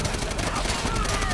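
Rapid ray gun fire in Call of Duty: World at War, a dense continuous burst of energy shots with whining sweeps, loud and close throughout a short stretch.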